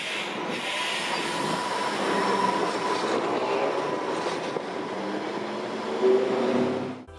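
Melbourne W class tram running along its tracks, a rumbling, rattling ride with wheel squeal and clatter, steady and fairly close throughout, swelling briefly near the end.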